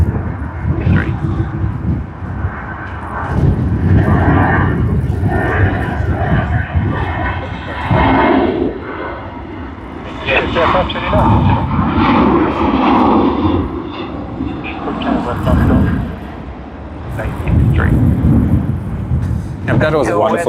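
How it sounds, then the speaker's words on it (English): A jet airliner passes at Sydney Airport, its engine roar swelling and rumbling loudly across the whole stretch with broad low noise, fading briefly and returning. "Let us capture this aircraft first"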